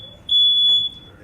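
A smoke alarm sounds from a home sprinkler test recording, a single sharp high-pitched electronic beep lasting about half a second, clear and alone over faint background.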